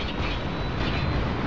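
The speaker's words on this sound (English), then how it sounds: "Can't this thing go any faster? No, unfortunately not. It's a helicopter." A helicopter in the video game Spec Ops: The Line gives a loud, continuous rotor and engine rumble with a steady mechanical hum and no pauses.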